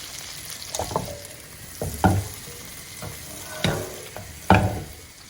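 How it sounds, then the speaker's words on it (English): Butter melts in a hot pan, a soft sizzle broken by several louder scraping and stirring strokes spaced a second or so apart, close with no talk. "I'm going to add 2 to 3 tablespoons of butter to this. I'm going to let it melt."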